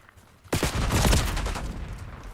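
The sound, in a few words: gunfire in video game Call of Duty Black Ops 6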